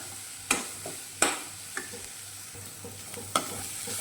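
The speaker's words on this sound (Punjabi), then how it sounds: "ਹੁਣ ਇਹਨਾਂ ਨੂੰ ਆਪਾਂ ਫਿਰ ਤੋਂ ਇੱਦਾਂ ਹਿਲਾਉਂਦੇ ਰਵਾਂਗੇ ਉਦੋਂ ਤੱਕ ਜਦੋਂ ਤੱਕ ਇਹਦੇ ਵਿੱਚੋਂ ਤੇਲ ਨਹੀਂ ਬਾਹਰ ਆਉਣ ਲੱਗ ਪੈਂਦਾ ਮਸਾਲੇ ਆਪਣੇ ਚੰਗੀ ਤਰ੍ਹਾਂ ਭੁੰਨੇ ਨਹੀਂ ਜਾਂਦੇ" Masala for matar paneer roasting in oil in a pan, a low steady sizzle broken by several sharp spoon knocks and scrapes as it is stirred, close and without talk.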